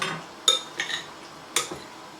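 A spoon stirs yogurt into aloo chaat in a bowl, giving a few separate clinks and scrapes against the dish, close and moderately loud, with no talk.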